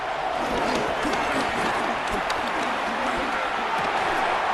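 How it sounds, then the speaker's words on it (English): Stadium crowd noise in the Madden 26 football video game, Buccaneers vs Texans, builds ahead of a third down as a dense, continuous roar with scattered claps, steady and loud with no distinct talk. "This crowd into it now as we get to third down."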